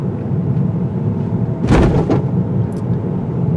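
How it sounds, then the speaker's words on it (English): A 2019 Toyota Corolla Hatchback with a 6-speed manual rolls over a speed bump at about 20 to 25 mph, and its tires give one short, heavy thump. A steady drone of road and cabin noise runs underneath. "Some nasty thumping noises from the tires, but didn't feel too much."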